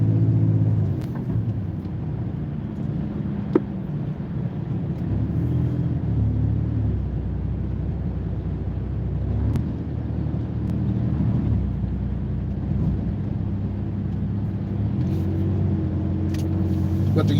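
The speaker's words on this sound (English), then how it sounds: "So we see three cars going crazy fast." Several cars, including a white Ford F-150, speeding and cutting across lanes on a busy road, heard as a steady loud engine and tyre rumble throughout with occasional revving swells.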